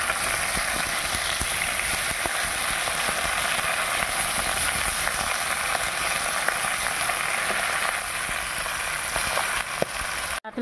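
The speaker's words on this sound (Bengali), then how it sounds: "এবার মাছ ভাজা চাপিয়ে দেব।" Pieces of katla fish fry in hot oil in a home kitchen, giving a dense, even sizzle that crackles steadily from start to finish with no talking.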